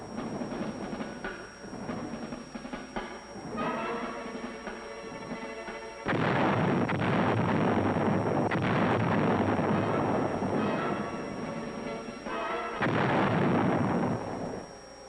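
Artillery fire in the Vietnam War, with loud heavy blasts and rumbling bursts that repeat and swell across the stretch, booming close with no talk.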